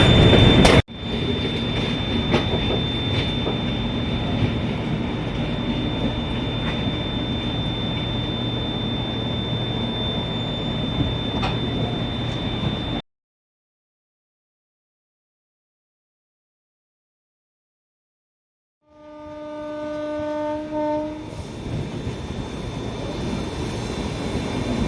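A long-distance express train on the Kolkata to Darjeeling route runs steadily on the rails with a sustained rumble and a constant tonal whine, cuts to silence, then a loud multi-tone horn sounds.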